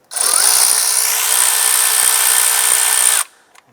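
A power driver with a 10mm socket loosens a bolt on the intake of a 2004-2008 Acura TL, giving a loud, steady, close-up whir for about three seconds before it cuts off abruptly.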